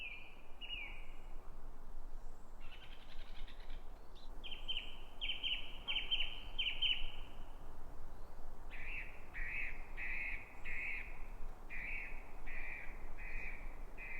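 A songbird sings in short, clear phrases repeated with brief pauses, fairly faint against a quiet outdoor background.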